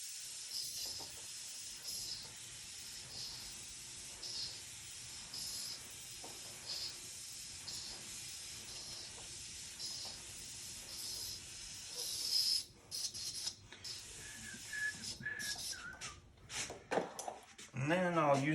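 Short repeated hisses of spray paint burst from an aerosol can onto a pet portrait over stencil lines, a regular rhythm of close spurts, with a few louder sprays toward the end.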